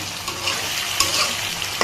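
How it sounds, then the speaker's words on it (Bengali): Fried rui fish being added to a loudly sizzling pan of curry with brinjal, a steady close frying hiss with a few sharper clatters of stirring and no talking. "এই যে মাছ ভাজা দিয়ে দিতেছি"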